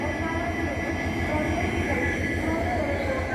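A passenger train hauled by a WTP 4T locomotive gives a steady, loud rumble with a constant mechanical hum, unbroken throughout.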